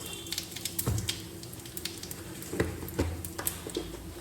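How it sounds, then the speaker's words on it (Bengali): Cumin seeds crackle in about a tablespoon of hot oil, a quiet close sizzle broken by scattered pops and a few faint clinks of a utensil against the pan. "এতে আমি জিরে ফোড়ন দেব"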